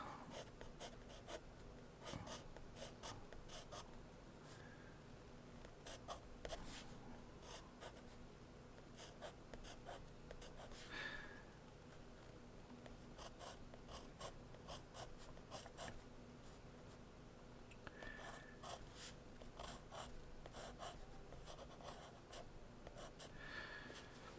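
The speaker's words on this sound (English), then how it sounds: "use the pencil just to draw my kind of guidelines." Pencil drawing guidelines on paper for an Amazon animals sketch, a steady, quiet scratchy scribble of graphite strokes running throughout at close range, with no voices.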